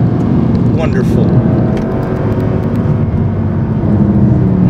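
A Mercedes C 63 AMG Black Series coupé drives on the Laguna Seca track, its engine a loud, steady roar heard from inside, with someone talking over it.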